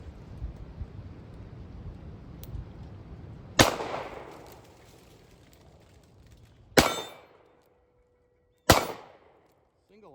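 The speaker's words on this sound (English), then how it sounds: "let's go ahead and shoot the Kimber K-6 S" Three loud revolver shots from a Kimber K-6 S fired double action, sharp separate cracks with ringing decay spaced a few seconds apart, following a stretch of low background noise at an outdoor range.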